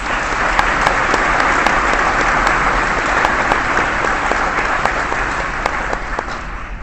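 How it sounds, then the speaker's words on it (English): A commencement audience at Marietta College applauds award winners and faculty retirees, a dense, sustained wash of many hands clapping, loud and even across nearly seven seconds, with no talking over it. "Let's give them one round of applause"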